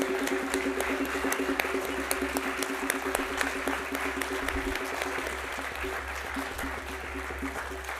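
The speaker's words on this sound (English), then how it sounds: "So please give a round of applause to our Secretariat." Conference audience at a closing plenary session applauds the secretariat with a steady, moderately loud round of clapping, individual claps audible within the sustained patter, with a faint tone humming underneath.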